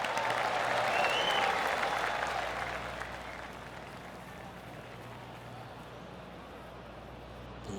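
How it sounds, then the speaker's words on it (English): Polite golf clap applause from a gallery in a golf video game, a dense patter of clapping that starts full and tapers to a softer, steady spread of claps over several seconds. "That deserves a golf clap."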